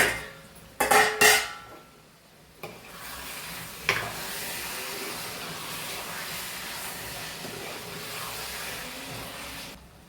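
Gravy chicken curry stirred in a pot, with a few sharp clatters of a utensil against metal early on, then a steady low simmering hiss that carries through to the end, no one talking.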